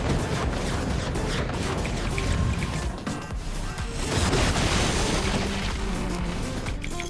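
Loud, dense barrage of cannon fire and crashing impacts from 20mm cannons in the Forts strategy game, with overlapping booms and debris clatter filling the whole stretch without pause; no voices.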